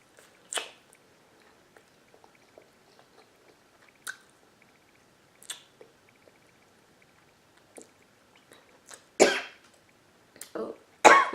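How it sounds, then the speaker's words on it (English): A person eating teriyaki chicken wings chews quietly between sparse bursts, then lets out a few loud, close coughs, the strongest near the end. "I coughed and a piece of chicken came out of my mouth"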